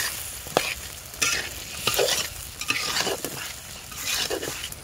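A piece of fish cooks in khesari lentils, with a moderate sizzle under repeated scraping and stirring strokes that come in uneven bursts every second or so.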